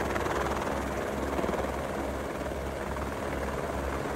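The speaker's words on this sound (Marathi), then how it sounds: "आपलं परतीचं हेलिकॉप्टर आता आपल्या ज्या ठिकाणाहून ज्या हेलिपॅडवर जो निघालो तिकडं येत आहे आणि आता थोड्याच वेळात ते हेलिपॅडवर लँड होईल।" A helicopter arrives to land at the Kedarnath helipad, its rotor and engine producing a loud, steady, close-up roar with a low rhythmic thudding throughout.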